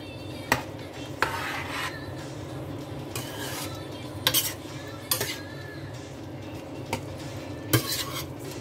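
Prawns are stirred in a pan while cooking spicy coconut prawns. A soft background sizzle runs under scattered sharp clinks and scrapes of a utensil against the pan.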